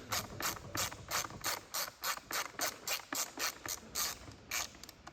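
A ratchet driver undoes T20 Torx screws holding the camera module in a Land Rover Defender L663 bumper, giving a rapid series of close, crisp clicking bursts in an even rhythm, with no talking.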